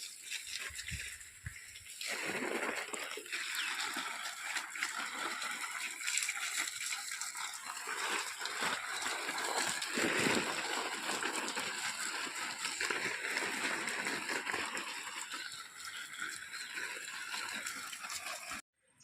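Water gushes and splashes steadily while plants are watered outdoors, a continuous hissing spray lasting most of the stretch after a brief quieter start, moderately close.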